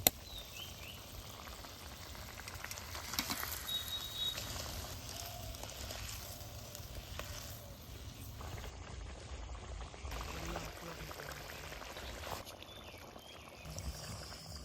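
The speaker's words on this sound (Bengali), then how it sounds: "ঝোল কিন্তু ভালোভাবে একদম ফুটি গেলে এ সময় দিব ভাজি থোয়া ডিম" Egg curry gravy with fried eggs added bubbles and sizzles softly in a pan, a faint, steady simmering hiss that goes on throughout without a break.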